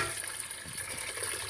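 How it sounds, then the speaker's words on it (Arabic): Water pours steadily into a pot of Syrian-style bean stew with fried tomato sauce, a continuous close splashing gush with no pauses. "هلا بنحط مي ان شاء الله"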